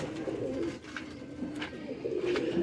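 Pigeons cooing at a home loft where flying birds are kept for breeding and sale, a steady low purring coo repeating through the clip, fairly close, with no talk over it.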